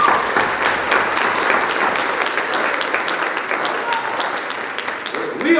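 Sports banquet audience gives a sustained round of applause, dense and steady throughout, with a few cheers over the clapping.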